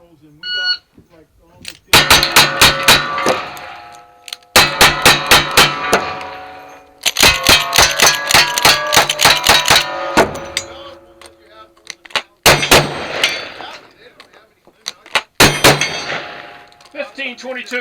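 Rifle and pistol gunshots ring out at a shooting match stage, loud and close, in rapid strings of sharp cracks with short pauses between bursts, some with metallic ringing.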